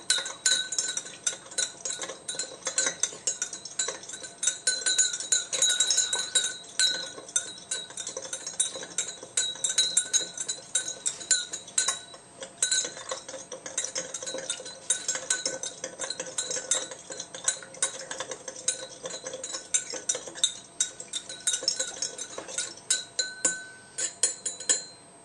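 A spoon stirs caramelized sugar in an absinthe glass, giving a steady run of bright metallic clinks and scraping taps against the glass for the whole stretch, close and clear with no talking.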